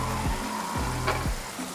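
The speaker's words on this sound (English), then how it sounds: "In the meantime, we'll fry the mogo." Cassava (mogo) pieces test-fried in hot oil give a steady, close sizzle, with a few soft low thumps every half second or so underneath.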